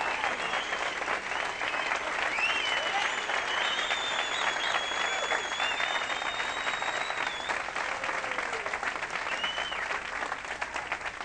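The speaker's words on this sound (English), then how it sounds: "Give her a big round of applause." A live audience at a 1983 comedy and magic show claps steadily for a volunteer, a sustained dense wash of applause with a few faint voices and musical tones above it.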